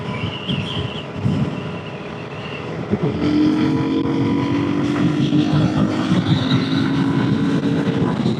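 A Suzuki DRZ400S motorcycle engine buzzes steadily at highway speed, a loud continuous drone mixed with heavy wind rush, rising slightly in pitch midway.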